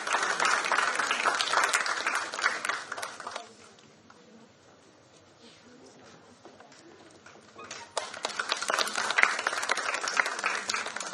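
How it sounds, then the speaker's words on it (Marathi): An audience applauds loudly to welcome an award guest on stage, the clapping fades to a quiet lull midway and then swells again into a dense round. "एकदा जोरदार टाळ्या त्यांचं स्वागत झालं पाहिजे."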